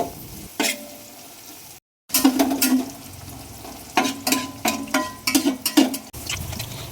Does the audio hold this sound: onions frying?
yes